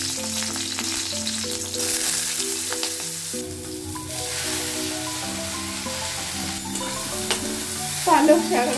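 Eggplant sizzles steadily as it fries in a pan at home, a continuous close crackle with occasional scrapes and clatters of stirring, faint background music, and a louder stir near the end; no talking.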